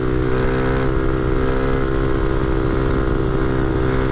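A motorcycle engine roars loud and steady during a fifth-gear wheelie at about 55 mph, a sustained high-revving drone with strong harmonic tones and wind rush, no talking.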